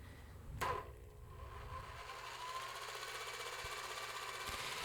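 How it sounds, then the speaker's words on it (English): A trusty old jigsaw cuts a slow circular path in a garage, a sharp knock at the start giving way to a steady, continuous buzzing saw drone that runs evenly to the end. "Got my trusty old jigsaw out, and I will make this circular cut."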